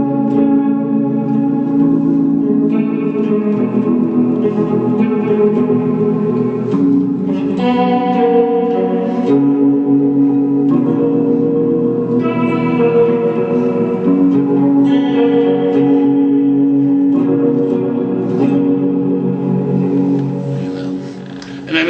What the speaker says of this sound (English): this weird sound, the Leslie kind of sound